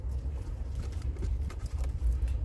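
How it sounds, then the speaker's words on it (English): Rain beginning to fall outdoors, a fairly loud, continuous patter of scattered drops with a low rumbling background and no voices. "it's starting to rain"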